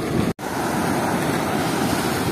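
Ocean waves wash steadily onto a beach, a broad continuous surf roar with wind buffeting the microphone and one brief dropout near the start; no one speaks.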